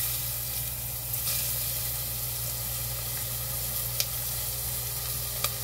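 Onion sautés in leftover olive oil in a pan, giving a continuous, close sizzle with steady frying crackle and a couple of faint clicks, no voices.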